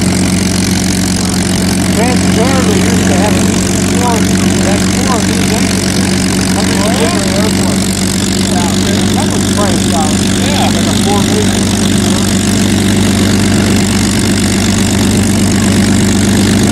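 The engine of a Rutan Long-EZ, the airplane Dick Rutan flew around the world, idles at an airshow with a steady low drone and hum throughout, while people talk faintly in the background.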